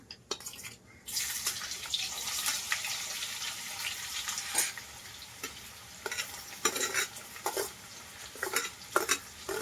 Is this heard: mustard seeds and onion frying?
yes